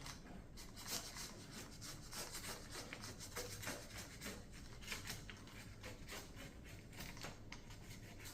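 A retainer spline being pressed into a window screen frame gives a continuous faint rubbing, scraping rasp with small irregular clicks, steady throughout at close range.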